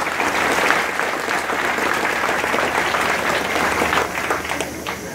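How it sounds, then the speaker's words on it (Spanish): A crowd at a Morena committee swearing-in in Chichiquila gives a strong, steady round of applause, dense clapping filling the space throughout. "Démosles un fuerte aplauso"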